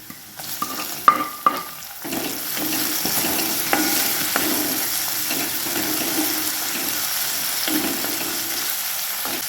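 Chopped tomatoes and onions stir and sizzle in a hot pan, with a few clinks of a spoon against the pan at first and then a steady, soft frying hiss.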